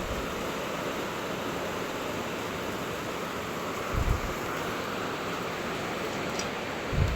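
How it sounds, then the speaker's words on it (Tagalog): Steady, dense roar of heavy rain with wind noise rushing throughout, loud and continuous, with a couple of low buffeting gusts against the microphone. "Sobrang lakas ng ulan"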